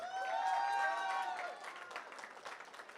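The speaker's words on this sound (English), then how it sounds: "A big cheer there." A crowd at a FIRST Tech Challenge robotics competition gives a brief cheer and applause that swells and then fades, heard at a distance in a large hall.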